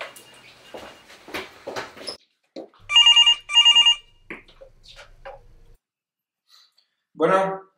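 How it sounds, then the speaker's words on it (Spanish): A telephone bell rings in two short bursts amid intermittent talking, with a brief voice sounding near the end. "Está sonando un teléfono en la casa, ¿no?"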